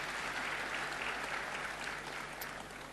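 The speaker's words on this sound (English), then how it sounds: "Another round of applause, please." An audience in a university hall gives sustained applause, a dense steady clatter of many hands clapping that fades slightly toward the end.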